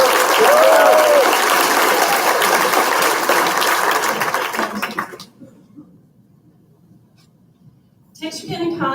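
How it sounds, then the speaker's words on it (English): Audience applause at a 2019 awards ceremony for college presidential scholarship recipients, loud sustained clapping for about five seconds, then a quiet lull before clapping briefly resumes. "Let's give them one more round of applause."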